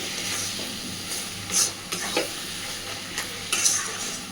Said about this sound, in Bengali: একটু সময় নিয়ে সুন্দরভাবে ডিমটাকে ওলে ডাটাটার সাথে মিশিয়ে ভাজতে থাকবে